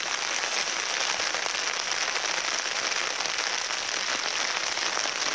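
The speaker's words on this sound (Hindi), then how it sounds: "इतना बारिश आ रहा है ये देखो असम में अभी" Heavy rain falls in Assam, a dense, steady hiss of drops pattering on a surface that stays loud and unbroken throughout, with no voices over it.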